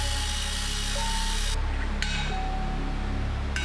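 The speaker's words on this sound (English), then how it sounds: "Now a quick wire wheel to finish up the prep" A wire wheel scours metal suspension brackets during prep for paint, giving a loud, steady, dense high-pitched whine and hiss that shifts tone partway through as pressure changes, with no voices.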